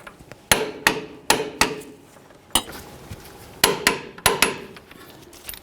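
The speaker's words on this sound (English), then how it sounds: "Now let's go ahead and torque these to 85 foot-pounds." A torque wrench tightens the upper control arm bolts on a 1992–2000 Chevy Tahoe, giving a series of sharp, close metallic clicks and knocks, about eight separate hits spaced irregularly with short ringing decays.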